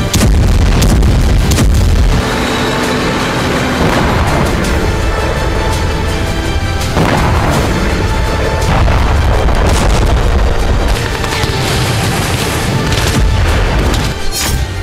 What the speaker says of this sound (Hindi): वोलोदर रूसी फौज की आर्टिलरी प्रहार से जल रहा है